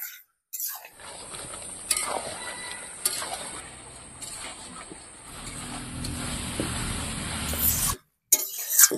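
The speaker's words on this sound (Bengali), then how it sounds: "মাংসটা এখন কষিয়ে নেব ভালো করে" Mutton being stir-fried (kosha) in a pan, a steady scraping and stirring with faint sizzle running close and continuous for several seconds, then stopping abruptly near the end.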